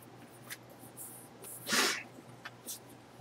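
A single person's sneeze, a short sharp burst near the middle, set against quiet room noise with faint clicks and rustles around it.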